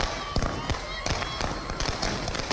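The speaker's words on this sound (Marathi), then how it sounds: "फटाक्यांची जोरदार आतषबाजी करण्यात येते" Fireworks and firecrackers set off in celebration outside a nagar panchayat office in Anagar, Solapur, several sharp bangs cracking over a dense hissing crowd din, with voices mixed in.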